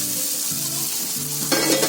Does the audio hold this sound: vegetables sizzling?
yes